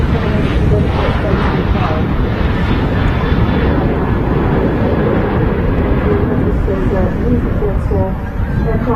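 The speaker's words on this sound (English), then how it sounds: "Right, Ryanairs starting to roll." A Ryanair Boeing 737 begins its takeoff roll at windy Manchester Airport, a constant loud engine roar with gusts buffeting the microphone throughout.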